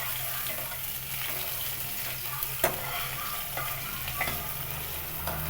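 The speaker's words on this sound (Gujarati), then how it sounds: "રાઈ તતરી ગઈ છે એટલે તેની અંદર આદુ લસણની પેસ્ટ નાખી દઈશું." Ginger garlic paste sizzles and fries in hot oil with spluttered mustard seeds, a steady close crackle with a few sharp pops and stirring scrapes.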